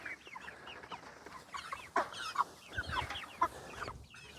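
Cornish meat chickens on fresh grass cluck softly, with a few short, scattered calls over quiet outdoor background.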